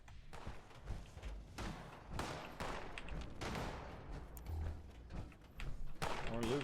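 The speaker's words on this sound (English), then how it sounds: "I can hear people off shooting" Distant gunfire in Fallout 76 pops in scattered bursts and volleys over game ambience, muffled and far off, with a louder cluster of shots near the end.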